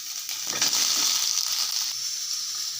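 Potatoes hit hot oil in a pan with a bright, steady sizzle that swells early and holds, close and fairly loud, with a few faint scrapes.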